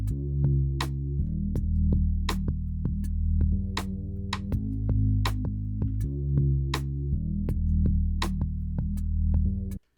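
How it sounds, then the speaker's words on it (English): A stock Pro Tools drum loop pitched up, stripped of low end and widened, ticking with sharp, thin hits in a steady rhythm over a sustained tonal bed, loud and close for about ten seconds before stopping abruptly, with no talking. "this is a stock Pro Tools drum loop that I just pitched up and cut out all the low frequencies of"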